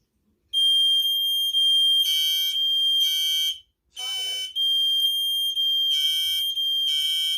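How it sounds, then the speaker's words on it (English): A Kidde RF-SM-ACDC interconnected smoke alarm shrills its loud, high-pitched fire-alarm tone in steady repeating blasts, broken midway by a short burst of sound before the piercing beeps resume. "now I'll interconnect it with some other smoke alarms"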